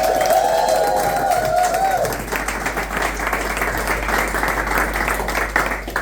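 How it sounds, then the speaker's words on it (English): Audience applause fills a hall, a dense sustained wash of clapping hands from a large crowd that swells after a brief voice at the start and carries on steadily for several seconds. "can I have a massive round of applause for Hamid as well."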